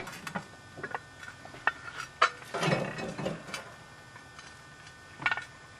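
Hot coals dumped off a cast-iron Dutch oven lid while cooking pork ribs outdoors, a few scraping, clinking knocks and rattles in a quiet setting, with no voices.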